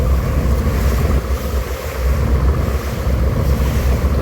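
A passenger launch overtaking another launch on a river between Patuakhali and Dhaka, giving a steady loud rumble of engine, rushing water and wind buffeting the microphone throughout, with no talk.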